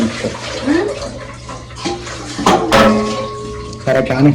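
Hands are washed under running tap water in a home kitchen while Mandi is being prepared, giving a steady splash and gush of water. Dishes clatter now and then, and people talk over the water.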